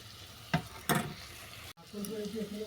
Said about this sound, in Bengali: এরপর চিনির সঙ্গে সমস্ত উপকরণ ভালো করে মিশিয়ে নিচ্ছি